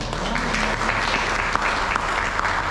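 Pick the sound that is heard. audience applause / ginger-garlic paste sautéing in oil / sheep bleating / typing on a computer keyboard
audience applause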